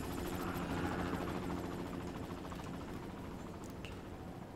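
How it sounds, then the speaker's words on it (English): Helicopter in the video game The Secret World, a steady low rotor drone with a faint rumbling texture, holding at moderate level through the whole stretch with no talking. "There's a helicopter."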